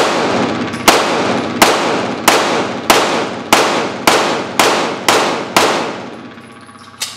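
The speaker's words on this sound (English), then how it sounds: "I'm just going to shoot some shots at the head" Pistol shots fired rapidly at a target, nine sharp, loud reports spaced evenly about two-thirds of a second apart, each ringing off briefly, with no talking.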